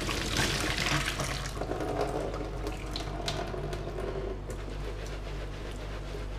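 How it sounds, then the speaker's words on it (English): Hot water from cooking noodles drains through a strainer into a kitchen sink, a steady splashing rush of liquid that runs loud and unbroken. "Once these noodles are ready, beautiful, we're going to strain them off."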